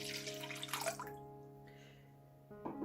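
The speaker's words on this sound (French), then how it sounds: "Je vais mettre le lait tiède" Warm milk poured into a mixing bowl makes a close, splashy trickle that fades out, with a faint steady hum beneath and a brief splash near the end.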